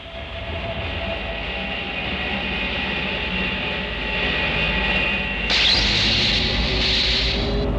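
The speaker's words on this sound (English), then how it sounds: "It's a MiG-242, all right." MiG-242 jet aircraft engine roaring steadily at close range, a loud broadband whine with a sudden surge in intensity partway through that then holds, with no talking.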